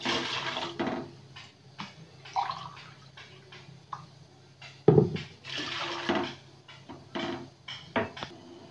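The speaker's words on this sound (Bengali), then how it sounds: "আর এই একই কাপের মাপে আমি 3 কাপ জল দেবো।" Water is poured from a cup onto sugar in a pot to start a syrup for homemade gulab jamun. Splashing comes in short bursts with clinks of utensils and cookware between them, all close by.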